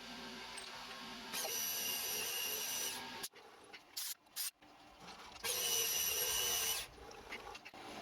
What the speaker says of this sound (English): I've not drilled a hole this deep.